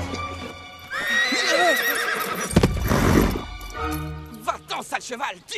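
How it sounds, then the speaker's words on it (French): A horse whinnies loudly with wavering, high-pitched neighs, followed by snorting and a burst of low rumbling hooves, in a French family adventure film scene set during a chase. "Va-t'en, sale cheval, tu entends?"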